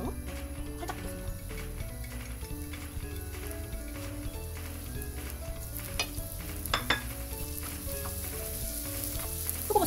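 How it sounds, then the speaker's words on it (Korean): Shiitake mushrooms frying in a mix of raw perilla oil and olive oil for gimbap filling, a steady sizzle with stirring clatter and faint background music throughout. "우선 표고버섯부터 먼저 살짝 넣습니다"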